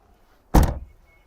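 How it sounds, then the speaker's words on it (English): Volkswagen car door shutting at a classic car auction, a single solid thunk, close and loud, that decays quickly against a quiet background. "Door shuts with a nice thunk."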